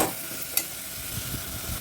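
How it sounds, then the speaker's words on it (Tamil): Ginger garlic paste sautéing in a pan for chicken curry, a soft steady sizzle with a faint stir or two, close but quiet, no talking. "இதையும் சேர்த்து நல்லா வதங்கட்டும்."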